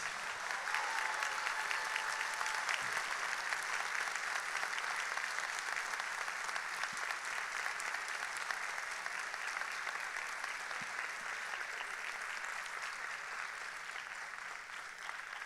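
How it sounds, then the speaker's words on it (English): Large audience of school staff at a district kickoff event gives a long, steady round of applause, a continuous dense clatter of many hands lasting the whole stretch and tapering only slightly at the end. "give them a round of applause"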